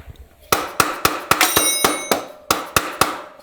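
Mallet blows while a motorcycle fender is fitted, about a dozen sharp, ringing strikes landing in an irregular rhythm, loud and close, with short metallic ringing after several hits.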